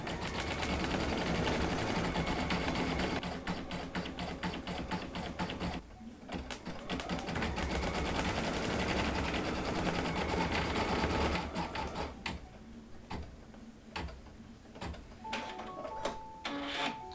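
An embroidery sewing machine stitches the small eyes onto in-the-hoop bunny slippers, a rapid, steady mechanical chatter close by that briefly pauses and restarts several times, then turns to intermittent bursts with clicks.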